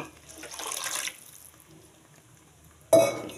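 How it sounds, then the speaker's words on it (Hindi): Water runs briefly from a tap into a pan of egg curry masala, a soft rush that fades, followed by a sharp clatter of cookware at the end; no one speaks. "अभी मैं इसमें थोड़ा सा पानी डालती हूँ"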